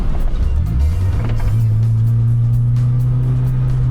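A Nissan car engine idles steadily at close range with a deep, even rumble and a brief rise in revs near the start, alone with no talk.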